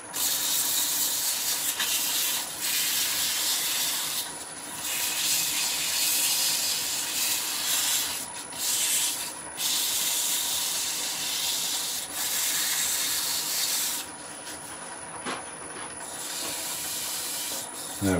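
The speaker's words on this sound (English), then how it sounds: "we're going to sand back very slow speed with a 600 grit abrasive" A wood lathe turning slowly while 600 grit abrasive sands the spinning wood, a continuous soft rubbing hiss with brief dips, fairly quiet throughout.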